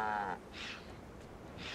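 Livestock call from a cow in the video game Guild Wars 2, Queensdale area: a short bleating low cry at the start, then faint breathy game ambience, moderately quiet.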